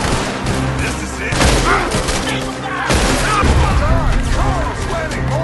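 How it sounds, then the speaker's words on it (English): Dense gunfire rattles through a Red Dead Redemption 2 shootout, with overlapping shots and booming blasts in rapid bursts, loud and continuous, while voices shout over the fighting. "Carl, Lenny, more fire on the right!"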